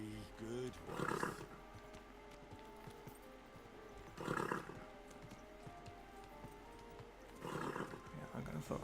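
A horse in the video game Kingdom Come: Deliverance II snorts and whinnies in three loud bursts spaced a few seconds apart, over a steady background hum with faint clopping.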